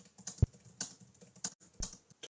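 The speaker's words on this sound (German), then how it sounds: "wer soll glauben, dass du da tatsächlich was getippt hast?" Someone types on a computer keyboard nearby at a quiet level. A few distinct key clacks come at uneven intervals with faint room sound between them, and no one speaks.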